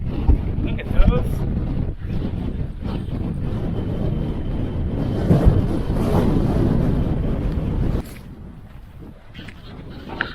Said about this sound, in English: Man, that wind.